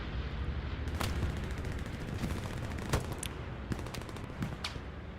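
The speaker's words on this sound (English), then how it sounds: "Bombing run called in." Wartime video game combat during a bombing run: continuous heavy gunfire and rumbling explosions, with several sharper close blasts punctuating the steady roar.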